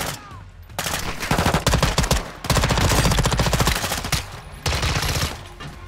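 Submachine gun fire in Modern Warfare II comes in loud rapid bursts, several long strings of shots separated by brief pauses.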